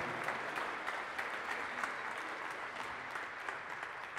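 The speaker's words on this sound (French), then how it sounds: "je pense qu'on peut applaudir Lamia" An audience at a Paris city professional morning session applauds for a guest, a steady even wash of clapping from a moderately sized room, continuous throughout without voices.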